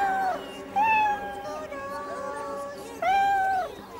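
A cat meows in several rising and falling cries, loud and close. The cat is stuck high up a castle tower, and voices are heard around the meows.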